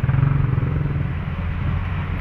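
A newly restored engine in an owner type jeep runs at a steady idle, a close, continuous low rumble with no one speaking.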